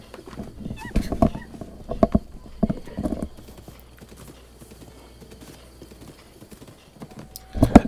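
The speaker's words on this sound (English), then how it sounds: "welcome to this horse ride" Horse hooves clip-clop during a ride in a Zelda video game, with clusters of close, rhythmic hoof beats early on, a quieter stretch in the middle, and a final burst of steps.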